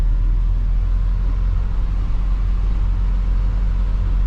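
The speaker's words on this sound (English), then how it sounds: "We do have it in second gear and just kind of chugging along here." An Isuzu NPR truck engine chugging steadily in second gear on a snowy downgrade, a loud, continuous low rumble with no talk.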